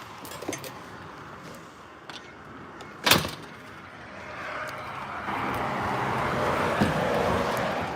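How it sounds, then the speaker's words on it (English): A door is shut inside a house under renovation: one sharp, solid thud midway, set among soft handling noises and a low, rising room rumble, with no talking. "Just shutting the door."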